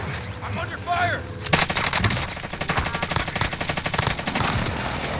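Rapid Mac 10 submachine gun fire in Call of Duty Warzone on Rebirth Island, a dense stuttering burst of close automatic shots that kicks in after a quieter opening with faint game sounds and a brief voice.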